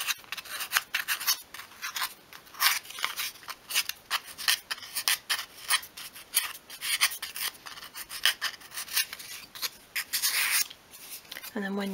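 Sandpaper rubs in quick repeated strokes along the edges of a small wooden piece for a 1/12 scale miniature coffee table, a close, dry rasping scratch continuing alone throughout.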